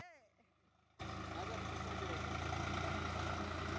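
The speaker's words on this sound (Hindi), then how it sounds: "ये देखिए स्वराज 855 का गाड़ी है, ट्रैक्टर है, इसको ताकत देखिए" A Swaraj 855 tractor engine starts up loud and close after a brief quiet moment, then runs on with a steady, heavy diesel rumble.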